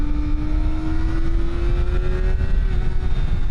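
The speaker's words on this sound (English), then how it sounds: "but I want to rev it up to the max." A Kawasaki ZX-4RR motorcycle's inline-four engine holds a high, steady whine with its pitch creeping slowly upward, loud and close, with wind and road roar beneath and no talking.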